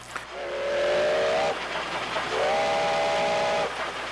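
A steam locomotive whistle sounds two long, loud blasts with a short gap between them, over the steady rumble of a train on rails.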